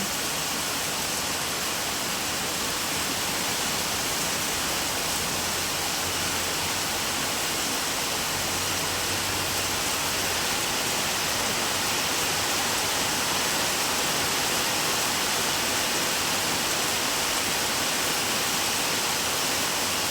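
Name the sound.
heavy rain pouring down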